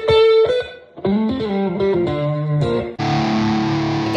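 Electric guitar played through a reverb pedal: a run of plucked, distorted notes with a lush reverberant tail, ending in a loud, sustained strummed chord that rings out alone.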